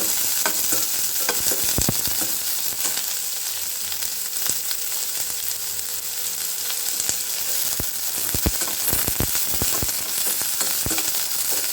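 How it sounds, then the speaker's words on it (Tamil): Onions sauté with garlic in a hot pan, giving a continuous crackling sizzle with frequent sharp stirring clicks and scrapes throughout, and no talking. "வெங்காயம் ரொம்ப வதங்க வேண்டாம், லைட்டாக வதங்கினா போதும்"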